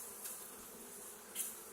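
Bees buzz faintly and continuously around a honeybee colony being worked, with a couple of brief louder passes as individual insects fly close.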